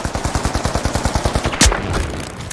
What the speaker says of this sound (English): he's trying to snipe with an AK